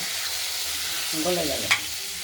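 Chopped tomatoes sizzle steadily in a hot pan for a potato curry, with a brief spoken phrase midway and a single sharp utensil clink near the end.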